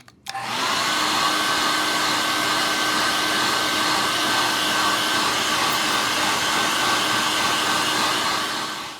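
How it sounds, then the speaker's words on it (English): A hair dryer switches on and blows with a steady, loud whine and rushing air, drying wet-polished twenty-millimeter cannon brass, running continuously without pause. "So the idea when we're drying brass with a hairdryer is to hit it with the hairdryer"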